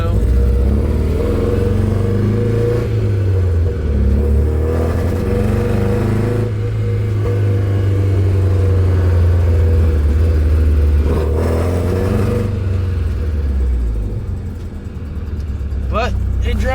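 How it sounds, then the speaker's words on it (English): A Nissan 240SX S13 engine runs loud and steady throughout a drive, its low drone rising and falling with throttle and revs while speech is faintly mixed in. "Alright, so I just drove it up and down, but it goes, it stops."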